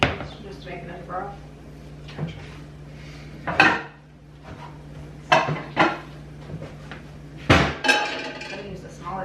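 Pots and pans clatter in bursts of metallic clanks and knocks, with quiet gaps and a low hum between the clatters.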